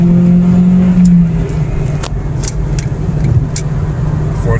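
A Ford Focus SVT engine drones loud and close from inside the car at speed, a steady low rumble with a strong tone that eases after a moment, wind and road noise beneath.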